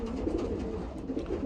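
A racing pigeon coos softly and repeatedly, with low, rolling murmurs heard close and alone at a quiet level.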